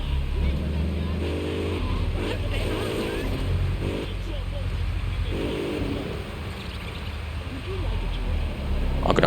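A car drives in the video game Grand Theft Auto 3, its engine a constant loud drone with bursts of revving, and a voice speaks intermittently over it.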